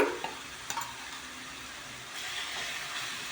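Onion paste mixed with two spoons of ginger-garlic paste fries in a pan for a home-style chicken gravy curry, giving a soft, steady sizzle with a few light stirring scrapes near the start.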